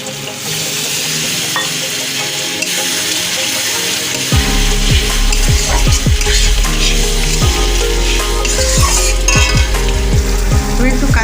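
Curry masala being stirred and fried in a pan with a little water, loud continuous sizzling with repeated scraping and clinking strokes of the spoon, close and without talk.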